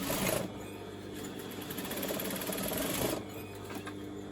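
A sewing machine stitches fabric for a scrunchie, a steady close whirring buzz running for about three seconds between brief pauses.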